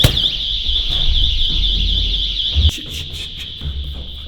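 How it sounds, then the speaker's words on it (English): Rooftop door alarm going off: a loud, continuous high-pitched electronic whine holding steady throughout, with low rumbling and handling noise underneath and a brief thump partway. "I set off the fucking alarm to the rooftop."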